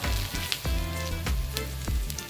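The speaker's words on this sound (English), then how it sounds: "Let's fry the garlic for half a minute." Garlic fries in about three tablespoons of hot oil in a wok on moderate heat, a close, steady sizzle broken by a few sharp stirring clacks and spits.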